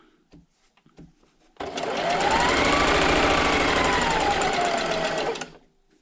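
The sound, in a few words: sewing machine stitching quilt strips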